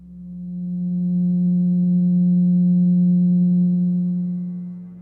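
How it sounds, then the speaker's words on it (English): A steady 180 Hz pure tone, derived from the degrees of a triangle, fades in, holds evenly for about five seconds and fades out, alone and fairly loud. "First, let's listen to what the 180 total degrees contained in a triangle sound like."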